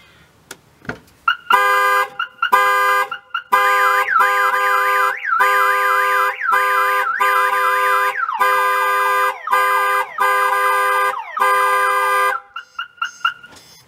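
Aftermarket car security system sounding through its horn alongside the factory alarm siren, loud rhythmic bursts of honking with a rising and falling warbling siren pattern, repeating in cycles for over ten seconds with no talk.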